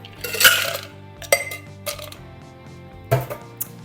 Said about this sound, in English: firstly, ice into the cocktail shaker